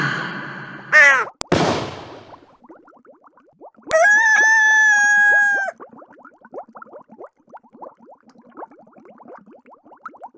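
A rooster crows once in the Bibi Blocksberg video game, a loud harmonic cock-a-doodle-doo standing alone after a brief magical swoosh, followed by quieter scratchy rustling.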